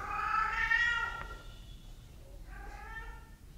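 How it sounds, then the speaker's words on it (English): A cat meows twice, a drawn-out plaintive cry followed by a shorter, softer one after a pause, fairly close and quiet. "That's our cat again."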